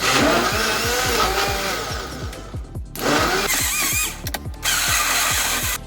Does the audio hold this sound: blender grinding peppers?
yes